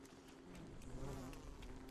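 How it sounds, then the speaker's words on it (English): A bee buzzes in Don't Starve: Shipwrecked, a steady, moderately quiet drone holding for about two seconds with faint wavering pitch and nobody talking. "This bee appears red, but it's not actually aggressive."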